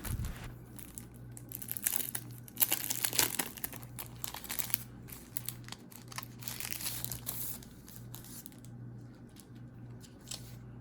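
Sticker packaging being opened, with close crinkling and rustling of plastic wrap in uneven bursts that come and go across the clip, no talking.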